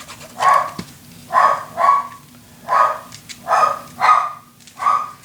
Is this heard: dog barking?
yes